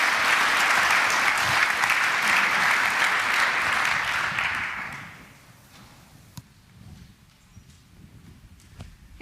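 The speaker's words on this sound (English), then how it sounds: "please give them a big round of applause" A conference audience applauds a speaker pair before a talk on attacking HomeMatic; loud, dense clapping fills the hall, then tapers off after about five seconds into quiet room noise with a few stray claps.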